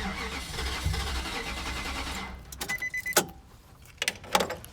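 A 2005 Nissan Titan engine cranks for about two seconds with a loud whirring starter and does not start, followed by clicks and clunks in the cab.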